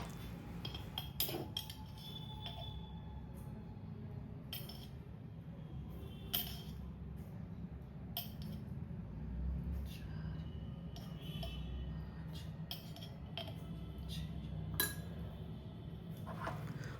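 A spoon stirs a paste of cornstarch and desi ghee in a bowl, giving scattered light clinks and scrapes over a low background hum.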